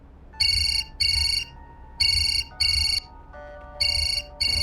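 A mobile phone ringtone plays in repeated short bursts of bright electronic tones, about six rings with brief gaps between them, clear and close.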